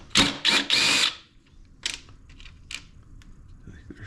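Three quick bursts of a power tool loosening bolts on a 2011 Ski-Doo 1200 TNT snowmobile, followed by fainter metallic clinks and handling noises in a quiet workshop.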